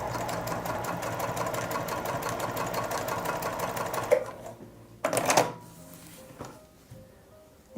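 A Juki TL 2010Q sewing machine stitches through three layers of denim with a rapid, steady mechanical chatter for about four seconds, then stops; a short second burst and a few clunks follow before quiet.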